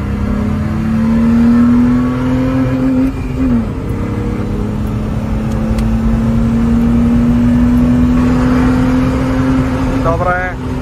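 A BMW E30 325i six-cylinder accelerates hard, its engine note climbing steadily in pitch through a long pull, dipping briefly at a gear change and rising again, loud and close, with a quick rev near the end.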